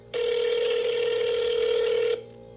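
A telephone rings out on a call as a single steady two-second electronic tone, clear and close, then stops, leaving a faint hum behind.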